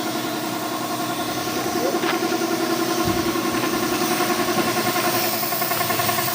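A motorcycle engine idles steadily throughout, a continuous mid-pitched rumble with a slight rise in intensity partway through.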